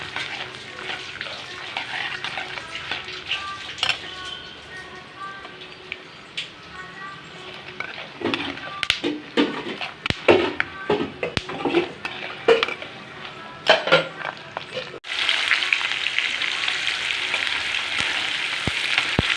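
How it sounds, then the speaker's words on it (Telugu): Green chillies, onions and curry leaves fry in oil for Telangana-style rice rava upma, a crackling sizzle broken by clattering stirs, then a louder, steady hiss near the end. "పచ్చిమిర్చి ఉల్లిపాయ వేసుకోవాలి రెండు పచ్చిమిర్చి ఉల్లిపాయ వేగనియాలి"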